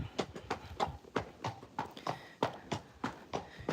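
A horse walks on a ride through the village of Cartmel, its hooves making a steady, close clip-clop of about fourteen evenly spaced beats, with no talking over them.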